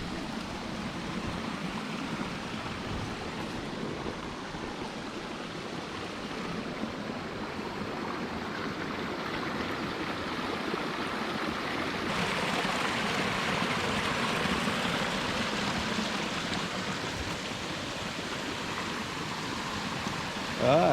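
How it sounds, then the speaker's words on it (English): A small creek in a nature reserve near Coffs Harbour flows steadily, a continuous broadband rush of water held close throughout and growing slightly fuller partway through. "This is the little creek anyway."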